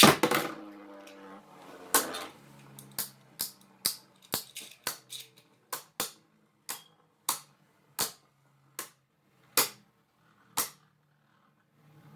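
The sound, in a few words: Beyblade Burst spinning tops launched and clashing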